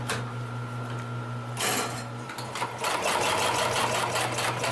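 A Consew 733R-5 extremely heavy duty sewing machine stitches fabric with a steady motor hum and rapid needle clatter that pauses briefly, then resumes louder and faster, running continuously with no talking.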